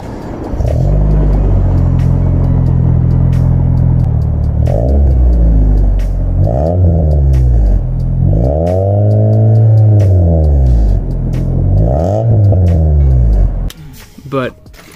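A car's exhaust rumbles loud and close as the engine revs repeatedly, rising and falling in several throttle blips before cutting off near the end.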